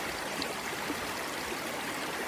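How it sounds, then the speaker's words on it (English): River water flowing over stones along a straight stretch of a rocky river, a steady close rushing and burbling with no pauses and no voices. "on one side of the river here, it flows fairly straight and it goes down this straightaway"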